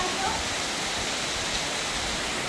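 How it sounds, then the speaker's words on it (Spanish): Heavy rain pours down during a storm in Jarabacoa, a dense, steady hiss of downpour close around, loud and unbroken throughout. "esta lluvia parece un tornado, mira"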